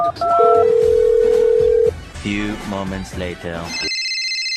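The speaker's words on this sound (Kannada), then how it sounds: "ಅಷ್ಟೋದಿಂದ ಫೋನ್ ಮಾಡ್ಕೊಂಡೈತೆ ಯಾರು ಎತ್ತಲ್ಲ" A telephone rings with a long electronic tone, then a warbling ring repeats under talking voices before a brief high beeping signal.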